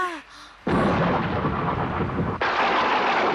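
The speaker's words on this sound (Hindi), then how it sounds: "बिजली चमक रही है, बादल भी गरज रहे हैं।" Loud thunder in a Ninja Hattori cartoon bursts in as a heavy, rumbling crash and rolls on steadily, after a brief cartoon voice at the very start.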